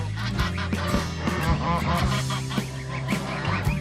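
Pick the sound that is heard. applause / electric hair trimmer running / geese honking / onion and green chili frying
geese honking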